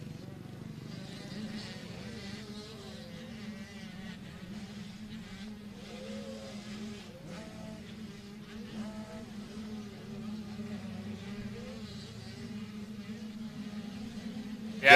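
Motocross dirt bikes, including a KTM, racing around a track at a spring championship, a distant buzzing drone of engines revving and rising and falling under steady commentary.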